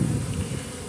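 Africanized honey bees buzz steadily and close by in a dense, continuous drone, with no voices over them.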